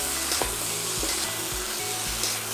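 Egg noodles with teriyaki pulled oats stir-fried in a hot pan: a loud, constant sizzle broken by regular scraping stirs about twice a second, close and without voices.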